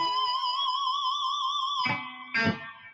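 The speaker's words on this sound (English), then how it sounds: "If the vibrato would be out of tune, it would sound like this." An electric guitar holds a sustained bent note with wavering vibrato that drifts out of tune, then drops and is struck again with a brief distorted attack, played alone without talk.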